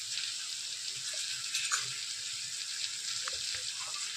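Onions sauté with ginger garlic paste, salt and turmeric in a pan for a prawn curry, giving a soft, steady sizzling hiss with a few light stirring scrapes.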